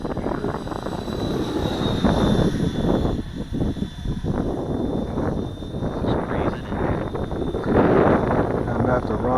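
A FreeWing ME 262 RC model jet makes a pass-by overhead, its whining electric ducted-fan drone rising and falling against wind buffeting on the microphone while people talk nearby.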